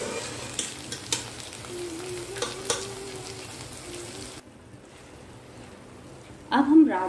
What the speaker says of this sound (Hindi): अब हम राजमा को अच्छे से मसाले में मिक्स कर लेंगे।